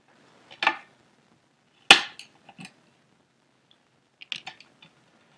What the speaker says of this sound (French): Donc je vais couper toutes les pointes